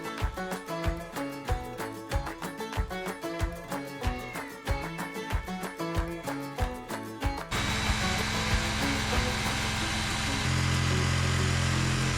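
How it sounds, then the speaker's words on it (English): A reciprocating saw with a short metal-and-wood blade cuts into caravan flooring, first in a rapid pulsing series of strokes, then settling into a steady, loud continuous buzz. "The tool we're using is this reciprocating saw"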